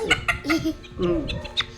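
Chickens with an eye ailment being treated cluck and murmur up close in a short burst of several soft calls, one after another.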